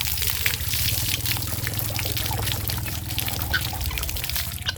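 Water pours steadily from a pump, a continuous trickling, splashing flow with a low mechanical hum beneath it, moderately loud and unbroken throughout.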